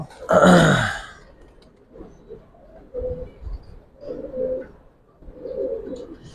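A Giribaz pigeon, an old-breed domestic pigeon, coos in a few soft, low, throaty bursts after a brief louder flutter or noise at the start.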